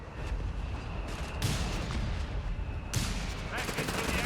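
.30 cal machine gun fire in the strategy game Company of Heroes 3, sustained rattling bursts over rumbling battle noise, loud and continuous, with game voices mixed in.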